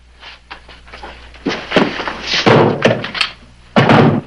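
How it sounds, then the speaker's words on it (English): A trap door in an old crime drama hideout being opened, a series of heavy wooden thunks and knocks, close and loud, with a sharp bang at the end. "All right, get the trap door."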